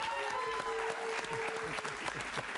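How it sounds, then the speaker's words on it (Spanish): A studio audience on a Spanish-language interview show applauds for a birthday guest seated among them, brief steady clapping, moderately quiet, with a faint tonal hum beneath. "Un aplauso para ella, por favor."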